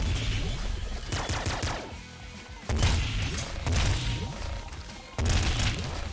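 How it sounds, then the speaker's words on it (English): Video game gunfire from the Eraser weapon in Nuclear Throne, a compressed-shotgun blast that lands in heavy booming volleys, three loud bursts separated by brief dips, dense and close with no talking. "this is just a really compressed shotgun"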